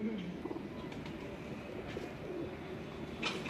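Pigeons cooing faintly on a rooftop loft, a few soft low coos under distant background noise and murmuring.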